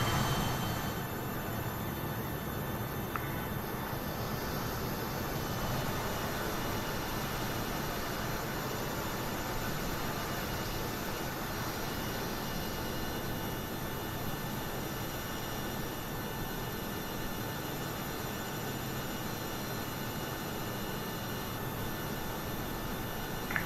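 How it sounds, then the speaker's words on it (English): A nearby airliner's jet engine in Microsoft Flight Simulator, a steady, loud broadband roar with a faint high whine, unchanging across the whole stretch with no talking. "Sounds like that from aircraft next to us."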